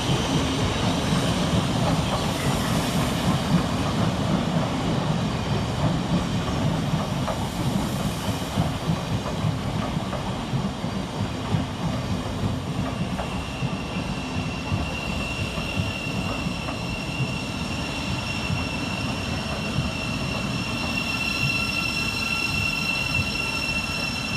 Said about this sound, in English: Next up the hill is 700 105, working the 1004 via Thameslink service from Cambridge to Brighton